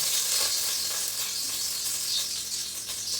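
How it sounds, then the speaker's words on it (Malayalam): Oil poured into a hot pan hisses with a bright, steady sizzle that swells and fades slightly, close by and without voices. "ഇതെനിക്ക് പേടിയുള്ള കാര്യമാട്ടോ ഈ ചട്ടിയിൽ എണ്ണ ഒഴിക്കുന്നത്"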